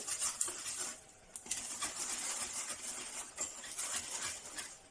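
A utensil scrapes and clinks softly against a bowl as peanut burger batter is stirred, in quiet uneven strokes.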